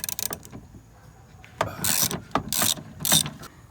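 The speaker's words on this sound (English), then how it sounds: "we're going to remove the two clamps that are holding tight right now" Clamps being worked loose from a car window and regulator inside the door of a 2004 Buick LeSabre, bursts of ratcheting clicks and scraping clatter close up, separated by quiet pauses.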